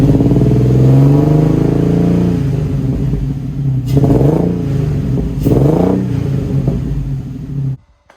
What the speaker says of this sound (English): Let's compare the revs from last time.